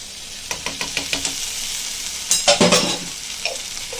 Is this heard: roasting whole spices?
yes